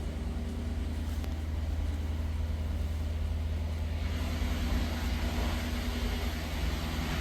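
A Lexus GS F sedan runs with a steady low engine rumble and hum close by, holding an even, continuous drone with slight swells throughout.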